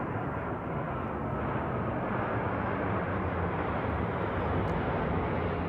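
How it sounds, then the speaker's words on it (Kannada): B-1 and B-52 bomber aircraft fly overhead, a steady, dense engine roar holding at a constant loud level without a break, with no voices. "B-1 ಮತ್ತು B-52 ಮಾದರಿಯ ವಿಮಾನಗಳನ್ನು ಅಮೆರಿಕ ಈ ದಾಳಿಗಳಿಗೆ ಬಳಸಿದೆ."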